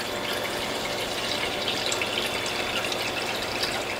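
Distilled water being poured into a bottle, a steady close hissing gush that holds even throughout without pauses or voices.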